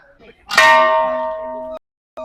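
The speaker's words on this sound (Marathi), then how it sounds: "मित्रांनी केवढी मोठी घंटा आहे बघा" A large temple bell at a Shiva temple rings out once with a loud, close metallic strike that decays slowly over about a second before being cut off, followed by a brief second sound.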